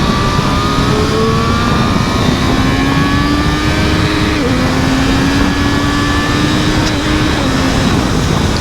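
A Triumph Street Triple 765 motorcycle engine revs hard under full throttle, a loud sustained drone with tones sliding upward through gears, steady and close throughout.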